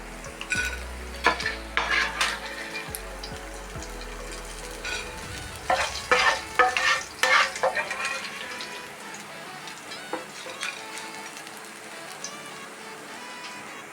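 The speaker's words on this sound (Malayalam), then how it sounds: "നന്നായി ഫ്രൈ ആവട്ടെ നമ്മൾ വെച്ച മീനൊക്കെ നന്നായിട്ട് ഫ്രൈ ആയി" Anchovies frying in oil in a pan, a steady close sizzle with bursts of stirring and scraping around the middle, then settling into a softer continuous crackle.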